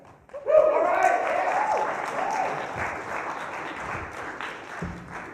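An audience bursts into loud, sustained applause for a couple called up on stage at a church gathering, a dense wash of clapping that slowly thins out, with a few voices underneath.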